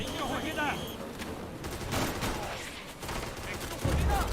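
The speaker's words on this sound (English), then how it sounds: "That's mortar. And that just adds to the battlefield." Mortar fire and other gunfire on a WWII battlefield in a sandbox video game: a dense, continuous wash of shots and distant explosions, with a heavier low thud near the end, and voices mixed into the din.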